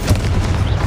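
Confringo fire spell explosion from the Hogwarts Legacy video game, played on Xbox Series S: a loud, deep, booming blast with sustained low rumble through the brief moment, no talk.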